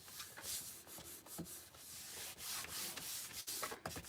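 A wooden sign being sanded smooth by hand, with rough, scratchy back-and-forth rubbing strokes in an uneven rhythm, close and fairly quiet, heard alone.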